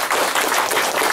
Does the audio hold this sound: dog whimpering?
no